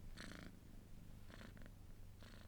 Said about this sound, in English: Yeah, she's a good cat.